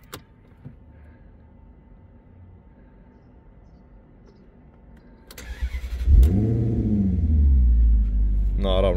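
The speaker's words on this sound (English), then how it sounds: "Evo imat ćemo jedan hot start." A Maserati GranCabrio Sport is hot-started: after a quiet interior with faint clicks, the starter whirs and the engine fires with a loud rising roar, then settles into a deep, steady idle rumble.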